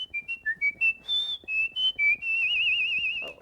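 A two-time international whistling champion imitates a bird, whistling a quick run of short, bright chirps that pitch up and down, then holding a long warbling trill, clear and close with no talk.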